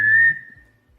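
A single human whistle imitating a varied thrush call: one sustained, slightly buzzy pure tone held for about a third of a second, then fading out, near and clear.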